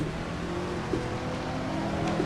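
A Ferrari race car engine in the Assetto Corsa racing game, 1966 Daytona 24-hour setting, drones steadily at sustained revs, a dense, loud, continuous mechanical roar with no talking.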